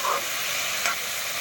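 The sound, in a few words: elephant apple (outenga) frying in a pan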